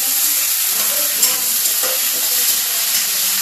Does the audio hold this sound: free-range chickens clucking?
no